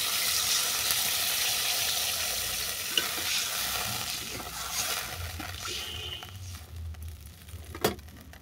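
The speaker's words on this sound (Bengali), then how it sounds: "আলু হালকা করে ভেজে নেওয়ার পর দিয়ে দিচ্ছি পরিমাণ মতো জল।" Water goes into a pan of lightly fried potatoes, and a loud hissing sizzle fades into quieter bubbling, with occasional stirring clinks and a sharp knock near the end.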